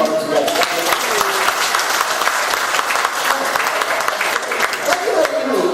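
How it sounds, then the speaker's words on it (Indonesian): A crowd applauds steadily, dense clapping filling the space, with a voice speaking faintly over it at the start and end. "mari kita berikan tepuk tangan aplaus bagi kita dan Bapak juga"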